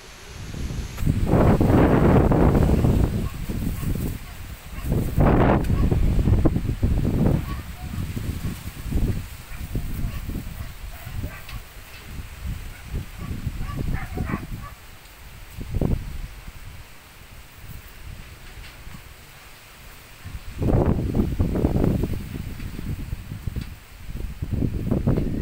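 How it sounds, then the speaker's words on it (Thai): Strong gusts of wind ahead of rain roar against the microphone in heavy surges, easing into a quieter rustle before blasting again near the end. "มาลมแรงมาเลยค่ะ"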